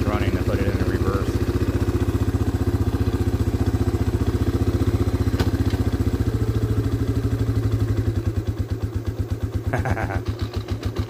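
A Yamaha Warrior ATV engine runs steadily at close range after a carburetor, plug and filter tune-up, its throbbing idle pulsing evenly before loosening into a choppier, slower beat near the end.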